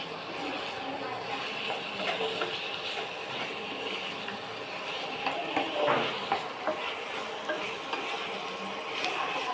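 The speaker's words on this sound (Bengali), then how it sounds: "আমি সব কিছু দিয়ে দিয়েছি, দিয়ে এবার আমি ভালো করে কষাবো" Chicken bokhara being stirred and sautéed in a pan, with a steady sizzle and scraping, clinking stirs running under faint background noise.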